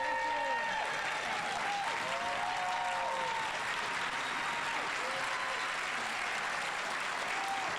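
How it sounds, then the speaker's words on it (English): Sustained audience applause fills a ceremony hall at an outstanding educators event, a dense steady clapping from a large crowd lasting throughout, with faint cheers and whoops rising over it. "Everyone, please join me in a humongous round of applause for Nathaniel and Emma."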